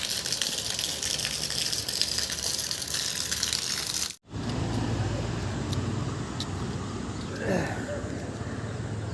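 Water keeps gushing in a steady, loud roar outdoors by a road, with a brief break in the middle and a faint passing vehicle sound afterward.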